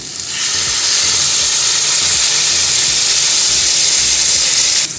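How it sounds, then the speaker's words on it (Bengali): Water poured into hot, sizzling masala in a pan for a potato, taro and shrimp curry sets off a loud, continuous hiss and sizzle that holds steady and close throughout. "এর মধ্যে আমরা জলটাকে অ্যাড করব।"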